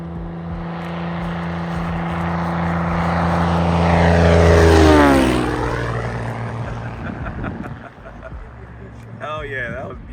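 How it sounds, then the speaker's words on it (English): A light propeller airplane makes a flyby at an airpark breakfast fly-in. The engine drone swells as it approaches, peaks overhead with a clear pitch drop and fades away, loud and outdoors, with people talking over it. "Let's see if he gives us a show. He'll give us a flyby."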